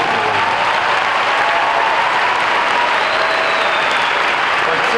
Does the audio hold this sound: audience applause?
yes